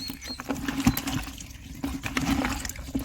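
Water being poured for potted plants such as aloe vera, close by, with uneven gurgling and splashing bursts that rise and fall over a few seconds, no talking.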